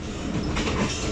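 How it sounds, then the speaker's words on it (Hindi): The Mehr Express passenger train runs along the ML2 track near Kundian Junction, a steady rumble and rattle of wheels on rails heard from inside the moving train. "दूसरा ट्रैक ML2 है जिस पर हम यानी कि महर एक्सप्रेस सफ़र कर रही है"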